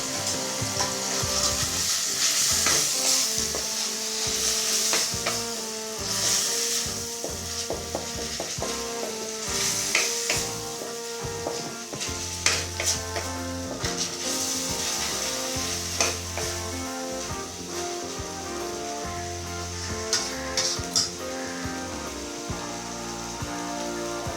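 Ginger paste fries in a pan with a constant crackling sizzle, and a spatula stirs it with occasional scraping knocks over about twenty seconds.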